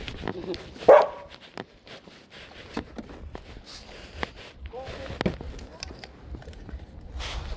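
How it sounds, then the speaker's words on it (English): A dog barks during a roadside car battery installation on a 2020 Nissan Sentra, one sharp loud bark early, then scattered softer yelps and whimpers amid outdoor noise. "It's a cute doggy."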